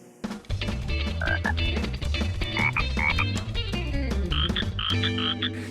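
Many boreal chorus frogs call together in Quebec in a dense, continuous chorus of rapid, overlapping trills and croaks, loud and close throughout.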